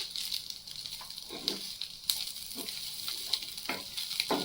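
Prawn fry masala with coriander powder being stirred in a pan, a soft continuous sizzle broken by scraping spoon strokes and small crackles at irregular intervals, close and fairly quiet.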